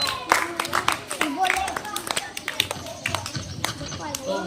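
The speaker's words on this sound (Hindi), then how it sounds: "ताली बजाए सब लोग" Children at a school assembly clapping hands, scattered, uneven claps mixed with chatter and voices throughout, a busy, close indoor sound rather than a unified round of applause.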